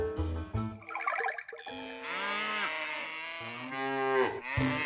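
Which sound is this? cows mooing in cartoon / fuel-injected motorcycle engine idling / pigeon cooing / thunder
cows mooing in cartoon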